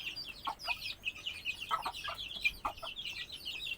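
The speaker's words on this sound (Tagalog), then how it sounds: "yung mga alaga nating manok ay" Several chickens cluck in short, scattered bursts over a quiet outdoor background, fairly close.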